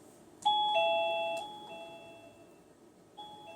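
A MECO wireless doorbell plays a clear two-tone electronic chime, then a softer second chime starts near the end, with quiet room noise underneath.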